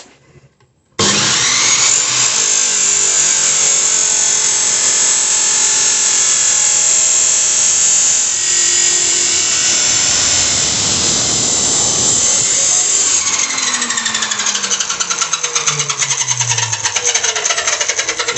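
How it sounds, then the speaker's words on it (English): A chop saw slices through steel angle for a home-built LoCost car's front suspension mounts, a loud, sustained abrasive scream that holds steady for about twelve seconds, then winds down with a falling whine as the blade spins to a stop. "A chop saw."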